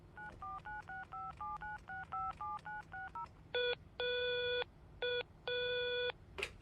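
Telephone keypad tones beep in a quick run of short dialing notes, followed by longer, louder electronic tones, clear and steady over faint background hiss.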